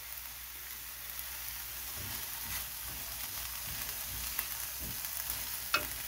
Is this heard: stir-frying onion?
yes